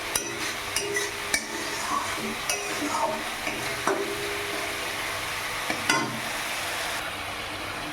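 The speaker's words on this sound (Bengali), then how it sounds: "এখানে মশলা কষানো হচ্ছে।" Spices and cumin powder frying in a pan for a topse fish curry over a raised gas flame, with a steady sizzle and regular scraping strokes of a spatula, close up and without speech.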